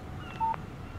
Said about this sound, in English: What did I tell you? Text message from Barry.